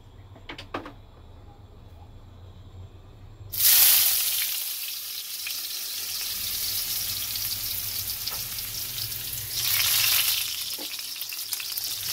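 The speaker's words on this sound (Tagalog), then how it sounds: "Ako ay magigisa na." Garlic, onion and tomatoes hit a hot oiled pan for a Filipino sauced fish dish. A few light clinks give way to a sudden loud sizzle that settles into a steady close hiss, then flares again briefly.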